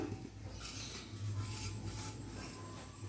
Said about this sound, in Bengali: সমস্ত কিছু মিশিয়ে দিলাম